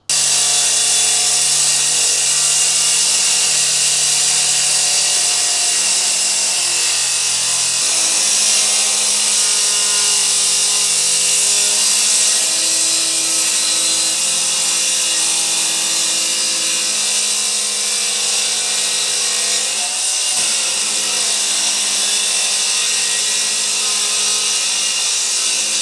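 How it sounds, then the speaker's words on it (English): Power saw cutting a bathroom door during a garage studio conversion, a loud, steady, high whine that runs continuously for the whole stretch, with one slight dip near the end. "So don't just cut on the line, whether you're using a handsaw or electric saw or whatever."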